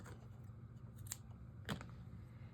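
Scissors snip through yarn during hat knitting, giving a couple of quiet, brief close cuts over faint room noise.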